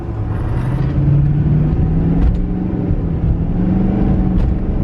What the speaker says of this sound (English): So let's give it about half throttle.